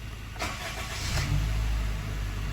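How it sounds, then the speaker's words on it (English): A car with a previously dead battery, jump-started, cranks briefly and then catches, settling into a steady low idle rumble close by, with no talking. "We're going to try and start the car with the dead battery"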